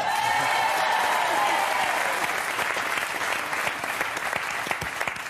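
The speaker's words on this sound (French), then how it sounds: "les gens m'applaudissent très fort" A theatre audience at a live stand-up comedy show applauds loudly and steadily, a dense wash of clapping that holds for several seconds and thins slightly toward the end.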